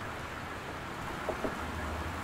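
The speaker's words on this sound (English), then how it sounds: "It's raining outside, as you can at least hear." Steady rain falls outside a house in the game Gone Home, a soft continuous hiss heard from an indoor porch area, with a couple of faint brief taps near the end.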